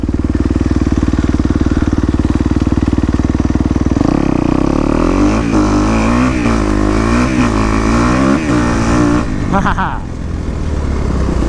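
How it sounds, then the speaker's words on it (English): A 4-stroke dirt bike engine drones steadily at low revs, then climbs through several rising pitch sweeps as the rider shifts up and accelerates, loud and close throughout. "shift up, let out the clutch and give it some gas. Now you're moving."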